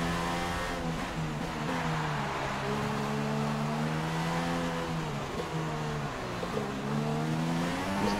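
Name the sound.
racing car engine downshifting, from video game F1 2016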